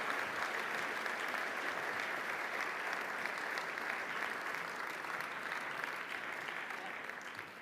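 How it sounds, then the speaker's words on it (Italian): A large audience applauds at an Italian economy and development awards ceremony as a long-serving worker is honoured, a dense, sustained wash of clapping that tapers slightly near the end. "Anche per lei l'applauso."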